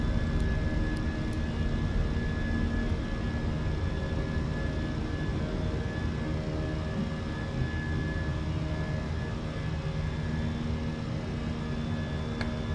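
Fenix A320 airliner in a flight simulator game, climbing out just after takeoff: a steady, even jet engine roar with a constant whine, continuous and unchanging throughout, no voices.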